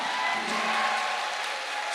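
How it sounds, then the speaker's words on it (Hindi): Crowd noise at a large health awareness gathering in India, a steady dense wash of applause and cheering held at even loudness throughout, with no clear speech on top. "जोरदार तालियां होनी चाहिए"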